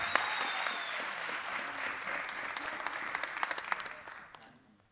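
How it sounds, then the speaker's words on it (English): An audience at a racial equity summit claps for the panelists in a full round of applause with scattered distinct claps, sustained for about four seconds before tapering off. "why don't y'all just give us a round of applause"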